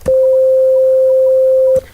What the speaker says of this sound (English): Now, that is a sine wave, and a sine wave is just one harmonic.